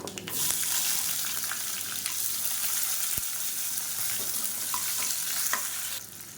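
Onions with mustard seeds, fennel, curry leaves, ginger and garlic fry and are stirred in a pan, giving a steady close sizzle with occasional scraping clicks throughout.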